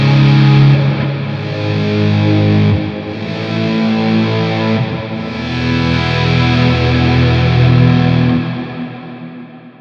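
Electric guitar played through a Big Sky reverb pedal in kill dry mode, heard as sustained, swelling wet chords with long washy tails, loud and fully effected with no dry signal or voice.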